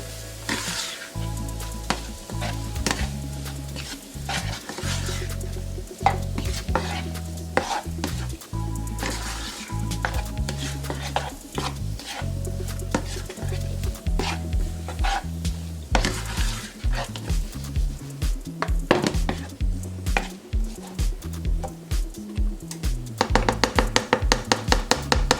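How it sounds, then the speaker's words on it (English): Curry is stirred into lobster tail frying in a pan, the sizzle running continuously under repeated scrapes and clinks of a utensil against the pan, close and busy, with a faster burst of stirring near the end. "I'm going to add half a teaspoon of curry. I'm going to mix this all in."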